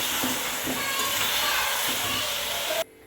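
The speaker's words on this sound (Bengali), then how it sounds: "তাই আমি এবারে আলুগুলো দিয়ে কষাবো।" Potatoes hiss and sizzle steadily as they cook in spiced tomato-based oil for aloo dum, a loud, continuous close-up frying sound that cuts off sharply near the end.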